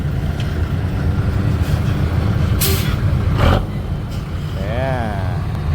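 Isuzu FTR 240 dump truck with a Victor gearbox, revving hard and blowing exhaust smoke at a temple merit-making convoy in Ratchaburi; loud, steady close engine roar with a sharp air burst, voices and crowd noise underneath.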